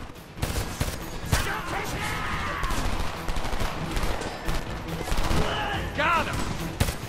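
Rapid bursts of gunfire crackle through a Homefront combat scene, repeated shots and fusillades layered under ongoing voices and battlefield noise.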